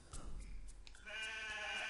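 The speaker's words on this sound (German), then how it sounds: "hier haben wir ein Schaf." A sheep in a video game bleats once, a wavering nasal call that starts partway through and carries to the end, fairly clear over quiet background sounds.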